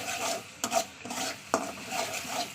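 A spoon scrapes and stirs spice masala frying in oil in a pan, giving a soft steady sizzle with rhythmic scraping strokes and a couple of sharper taps against the pan, close up.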